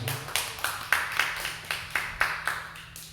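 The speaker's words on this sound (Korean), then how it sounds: "우리 하나님께 영광의 박수를 올립니다." A church congregation claps in unison during an evening worship service, about ten steady rhythmic claps, fairly close and moderately loud with faint background hum.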